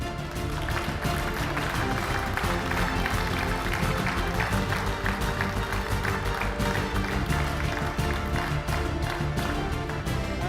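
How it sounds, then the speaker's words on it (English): Steady, dense applause from an arena audience at a pro billiards awards ceremony for the Billard Beckmann Men's Open runner-up, running unbroken for about ten seconds with music-like tones blended underneath. "A big round of applause for our runner-up,"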